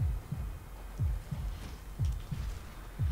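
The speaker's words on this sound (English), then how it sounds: "you can hear the fucking heartbeat of King Kong" King Kong's heartbeat in the video game Skull Island: Rise of Kong, a deep, slow thumping pulse of paired beats repeating steadily, loud and alone over a low rumble.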